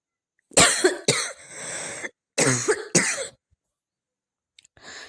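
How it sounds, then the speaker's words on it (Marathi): A person coughs repeatedly in several harsh, close bursts separated by short pauses, followed by a softer throat clear after a silence. "तुम्हाला खोकल्याचा आवाज मधून जरा जास्त येतोय का"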